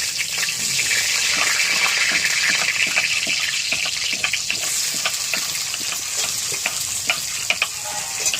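Chopped onion fries in hot oil that was already tempered with dried red chilli and cumin, producing a loud, continuous close sizzle with a few light stirring taps and no speech.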